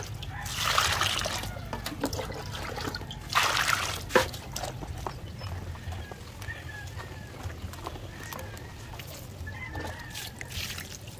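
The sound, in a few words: water poured from a bucket into chicken feed mixture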